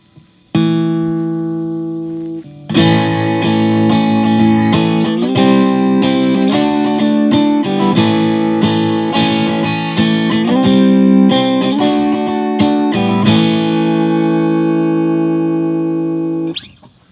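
A loud distorted electric guitar played through a Rat distortion pedal plays sustained chords, sliding between several changes with a thick, buzzy crunch, then cuts off abruptly.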